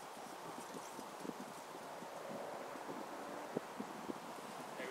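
Wind blowing outdoors in the bush as a broad, steady rush buffeting the microphone, with faint rustling and a few light taps scattered through it.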